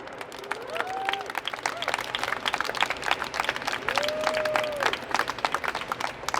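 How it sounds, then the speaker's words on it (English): Applause from an audience after a speech at a government department event, scattered individual claps at first, then thickening, with some voices and cheers mixed in. "Please give yourselves a big round of applause."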